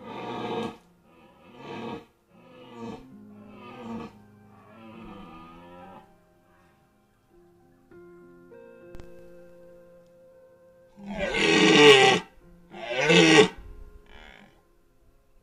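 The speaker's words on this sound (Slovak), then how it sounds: "Jeho rév sa nesie ďaleko do lesa." A red deer stag roars during the autumn rut in a forest clearing, several drawn-out groaning bellows spaced apart, then a louder, nearer pair of roars toward the end.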